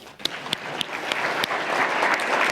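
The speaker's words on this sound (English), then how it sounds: "Let's give him a round of applause." Applause at a conference talk on open source starts with a few sharp separate claps, then swells into steady, dense clapping from the crowd.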